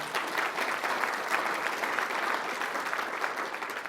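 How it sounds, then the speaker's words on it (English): A room full of people applauds for Jordan at an AAU Sullivan Award ceremony, a dense, even sheet of clapping that holds at a steady level for the whole stretch with no voices rising above it. "So a round of applause for Jordan"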